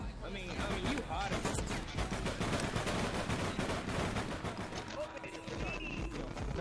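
Rapid gunfire in a one-on-one match in the online shooter APB, with dense, clattering bursts of shots repeating almost nonstop at a loud, close level.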